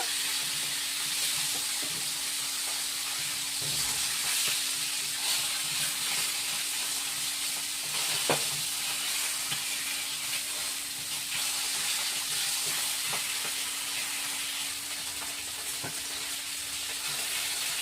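Pomfret fish fry in hot oil with a steady, even hiss and sizzle that carries on throughout, with a few faint clicks and clatters in the background.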